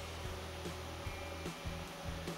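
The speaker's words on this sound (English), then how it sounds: "I carefully grind this down," A rotary grinding tool whirs steadily while hardened silicone sealant is ground down on the cable of a Maytronics pool-cleaning robot, with a continuous high buzz and small periodic bumps as it contacts the material.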